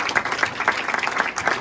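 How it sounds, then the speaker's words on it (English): An audience at a children's martial arts black belt event breaks into brief, brisk applause of many hands clapping together. "Let's give Nick a round of applause, okay"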